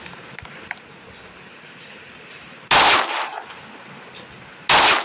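Two loud, sharp sniper shots ring out in a video game about two seconds apart, each with a short echoing tail over a quiet background with faint ticks.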